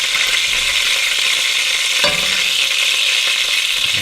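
Sweet Italian sausage frying in a pan for a bolognese sauce, a loud steady sizzle close by with a brief clatter midway as the meat is moved.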